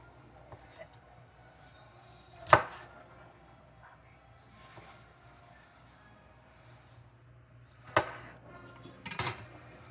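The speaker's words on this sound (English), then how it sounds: "but we're just going to be slicing these." A knife slices jalapeños on a cutting board in a quiet kitchen, giving a few sharp, isolated knocks spaced several seconds apart over a low, faint background hum.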